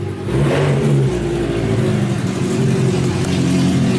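A mini truck with a swapped Suzuki Hayabusa engine revving up close, rising quickly then holding at a steady, throaty roar with a low rumble underneath.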